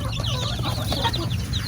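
Several chickens cluck and chatter close by, a busy overlapping flutter of short calls.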